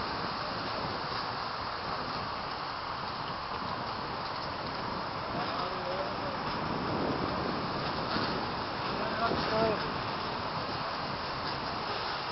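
Steady rushing wind buffets the microphone at the Kaklık power plant in Denizli, a dense low roar that swells and fades slightly over several seconds with no clear voices.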